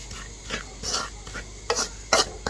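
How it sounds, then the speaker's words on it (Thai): Chili powder fries in garlic oil over low heat, with a few rough scraping and stirring bursts that come and go against a low background. "บาดนี้เขาก็สิเอาพริกมาเจียวต่อ"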